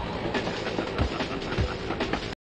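In the Spider-Man PS1 video game, a train rushes past with loud, rhythmic clickety-clack of wheels on rails, then cuts off abruptly after a little over two seconds.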